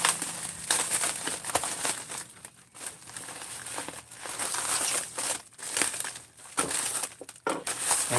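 A priority flat rate mailing envelope crinkling and rustling as an item is packed inside, loud close crumpling in uneven bursts with brief pauses.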